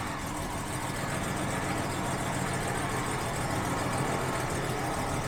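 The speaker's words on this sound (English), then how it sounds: "Let's fire it up and see how it runs." A Jaguar XJ6 Series 3 engine, running after its fuel hoses were replaced, holds a steady, even idle at close range, a continuous low hum with no voices.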